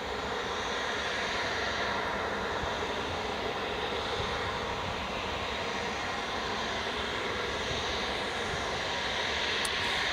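A Loganair Embraer jet takes off from Newcastle Airport on runway 25, its engines producing a loud, continuous broadband roar that holds steady throughout with no talking.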